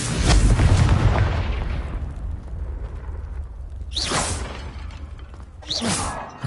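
A Confringo blasting spell in Hogwarts Legacy detonates with a loud opening boom that rumbles away, followed by two quicker whooshing spell bursts later, with no talking.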